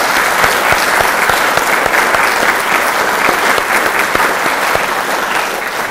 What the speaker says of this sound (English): So, please give her an enormous round of applause.